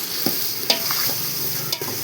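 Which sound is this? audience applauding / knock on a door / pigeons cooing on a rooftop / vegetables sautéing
vegetables sautéing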